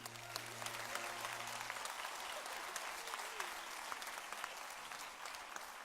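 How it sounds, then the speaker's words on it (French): A theatre audience claps for a hypnotist's volunteer on a televised talent show stage, fairly faint and distant, a continuous patter of many hands with a brief sustained tone at the start. "On peut l'applaudir."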